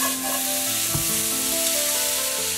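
Potatoes dry-fry in a hot wok with a steady, close sizzle, and a brief stirring scrape cuts through partway along. No voices are heard.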